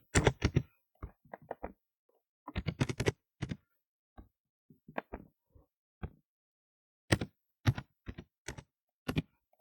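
Someone types an email address on a computer keyboard, with clusters of crisp, close keystrokes separated by short silent pauses and no talking.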